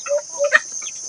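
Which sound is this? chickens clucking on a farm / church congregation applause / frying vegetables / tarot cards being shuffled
chickens clucking on a farm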